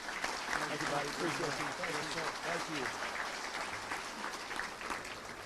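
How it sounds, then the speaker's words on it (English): Applause from a Touchdown Club luncheon audience, a steady wash of many hands clapping at moderate distance, sustained evenly with no pauses. "let's give a big round of applause to George and Simmons Bank today"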